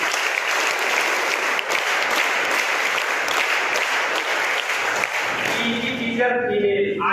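A school crowd at a Teachers Day event applauds in a sustained burst of clapping, loud and steady, tapering as other sounds emerge near the end.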